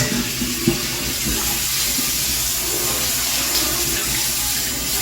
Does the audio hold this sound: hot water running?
yes